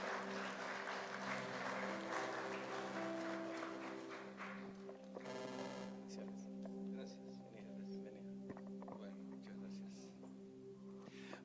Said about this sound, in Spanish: le vamos a recibir con un fuerte aplauso a nuestro hermano Pablo Lavalle